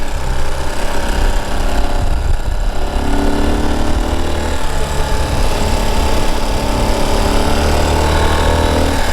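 Ural Gear Up 2WD sidecar motorcycle running along back roads, its engine a loud, constant droning rumble heard close up with wind noise throughout and no talking.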